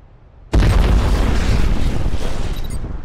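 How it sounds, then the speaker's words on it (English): A C4 charge placed beside a car goes off in a video game combat training range. One sudden, loud, deep blast follows a quiet lead-in, then a long rumbling roar trails off slowly. "Detonate the charge."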